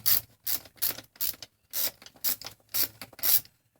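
A hand ratchet with a socket gives the final tightening to spark plugs on a Mustang GT. Close, crisp clicking comes in eight short bursts in an even back-and-forth rhythm, with no talk.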